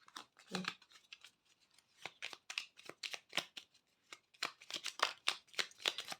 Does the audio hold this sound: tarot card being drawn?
yes